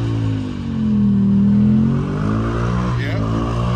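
A Ford Mustang RTR held in a burnout, its engine droning low and steady with a swelling rev in the middle, loud and close, with tire noise underneath.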